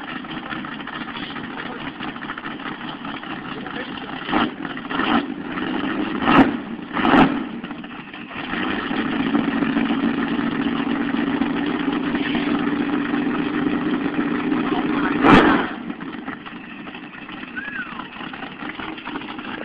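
A 1000 hp supercharged Chevy 350 V8 fitted in a BMW 3 Series idles with a steady rumble for about twenty seconds, broken by a few sharp throttle blips and bangs, close by with no speech.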